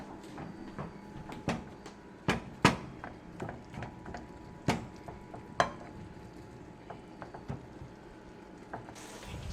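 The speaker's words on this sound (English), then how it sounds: "So we waited for the tacos to cook" Ground taco meat with taco seasoning fries in a pan, a soft steady sizzle broken by sharp scraping clicks and taps of a utensil against the pan at irregular intervals, with no talking.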